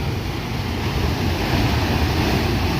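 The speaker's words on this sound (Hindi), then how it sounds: "प्रेशर पानी का आ रहा है और हमें यहाँ पे ठंडी ठंडी फुहार आ रही है" Water sprays down under pressure, with wind, at a village in Punjab, Pakistan, making a loud, continuous rushing hiss with low gusty buffeting and no speech.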